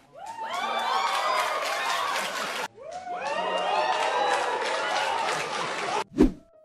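A large crowd cheers and applauds loudly in two long sustained swells, with whoops and shouts rising over the din before a brief break, and a sharp thump at the end.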